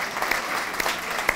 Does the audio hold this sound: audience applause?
yes